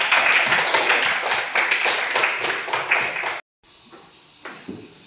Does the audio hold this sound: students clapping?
yes